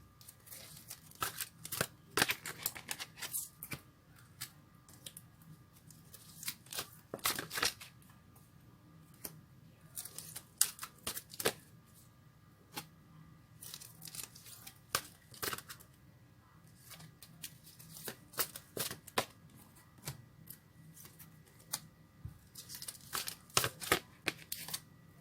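Tarot cards being shuffled by hand, soft crisp riffling bursts that come in irregular clusters, close and fairly quiet against a near-silent room.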